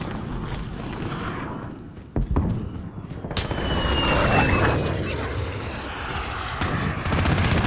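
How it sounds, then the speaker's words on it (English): A friendly VTOL aircraft in Modern Warfare flies over, its engine roar building into a broad, steady rumble with a whining tone sweeping past, mixed with distant game combat booms. "Friendly VTOL on station for Overwatch."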